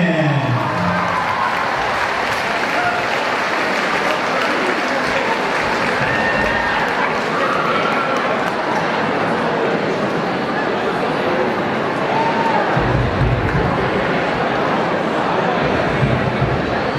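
Applause from a crowd at a school spring sports assembly, a dense sustained clatter of clapping that fills the whole stretch at high volume, with voices mixed in underneath.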